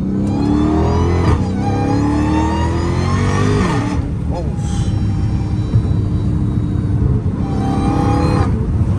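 A Dodge Challenger Hellcat Redeye revs hard, its supercharger whine sweeping up and down in pitch over a loud engine roar, with a couple of repeated acceleration pulls; voices can be heard over it.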